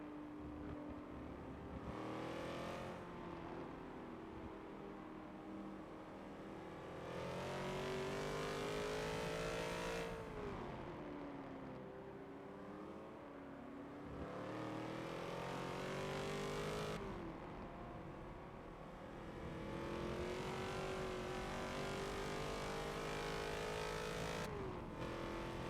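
Race cars lapping Circuit de Spa in the Forza racing game, engines revving up and shifting gears in long rising sweeps, one car close and loud with others passing, no talking.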